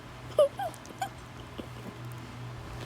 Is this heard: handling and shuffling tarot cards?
no